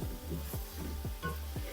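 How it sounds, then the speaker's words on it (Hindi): Boiled chickpeas sizzle in a hot pan with spices for lahori chana, as a spoon scrapes and stirs in a steady rhythm of about four strokes, close and moderately loud with no talking. "चनों को मसाले के साथ भून लें ताकि मसाले का टेस्ट चनों में आ जाए।"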